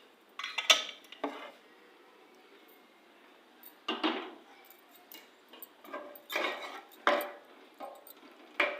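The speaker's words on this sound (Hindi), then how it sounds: "अब मैं मसाला भूनूंगी चूल्हे पे रख के।" A metal spoon scraping and clinking against a pot as masala with meat pieces is roasted on a stove, in a few separate bursts of clatter with quiet gaps between them, close by and without talk.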